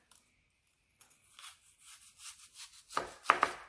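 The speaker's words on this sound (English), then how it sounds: "let's go ahead and slice our onion as thin as we can get it" A knife slices a red onion as thin as possible on a cutting board for pickled onions, with soft, quiet strokes that turn into firmer, closer chopping cuts toward the end, no talking.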